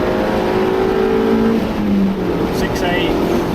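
A car's engine revs hard and steadily while driving through Strines Pass, pulling up through the gears on a winding road, with a voice talking over it throughout.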